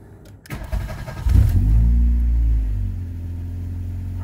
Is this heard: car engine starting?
yes